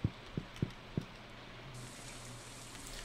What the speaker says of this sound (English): Oh, rain again.